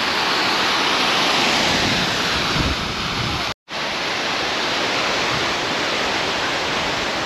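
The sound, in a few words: waterfall running at the Kathmandu Adventure Park, Magaluf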